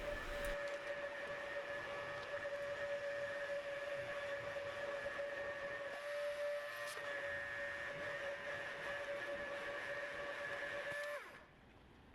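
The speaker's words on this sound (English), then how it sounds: "I am getting ready to vacuum." A vacuum cleaner runs nearby with a steady, high-pitched motor whine that holds constant for several seconds and then suddenly drops away near the end.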